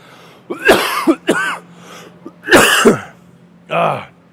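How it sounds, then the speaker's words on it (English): A person with a cold coughs in a fit, several loud close harsh bursts in separated clusters, with throat-clearing sounds and a low steady hum underneath. "I'm having a cough attack."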